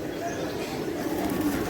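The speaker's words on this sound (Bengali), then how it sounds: "ভবনের চারপাশে যে কবুতর, হ্যাঁ অনেক কবুতরের বাসা বেঁধে আছে।" Pigeons coo softly around a shrine building at the dargah of Hazrat Shahjalal, low murmuring calls blending into a steady wash of nearby crowd noise and chatter.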